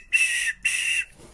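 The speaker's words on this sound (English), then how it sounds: "not the greatest whistle, but it's a whistle anyway" Two short, shrill blasts from a small safety whistle clipped to a Daiwa fishing lure vest, close and loud with a brief gap between them.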